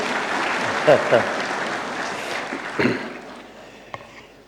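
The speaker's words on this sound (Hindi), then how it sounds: "एक बार जोरदार तालियां हो जाए।" Audience applause at a conclave event, a thick burst of many hands clapping that starts loud and gradually tapers off, with a few isolated claps and a voice beginning to speak near the end.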